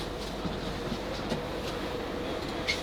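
A South Western Railway Class 458 train rumbles steadily on the way from London Waterloo toward Weybridge, a constant close interior roar with faint rhythmic clicks from the wheels.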